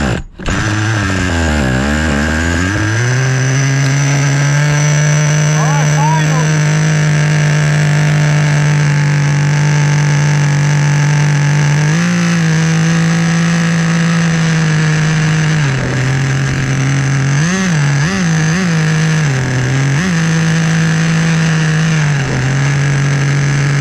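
An old HPI Nitro Rush stadium truck's restored 15fe nitro engine with low compression and poor fuel feed to the carb runs loudly and close, a steady buzzing whine after a brief start, dipping and wavering unevenly in pitch several times.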